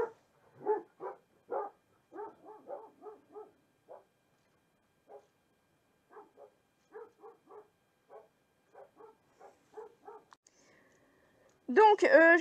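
Galinette the dog barks in short, excited bursts, a rapid series of yips and woofs separated by pauses, fairly close, ending in a louder, wavering whine-like outburst.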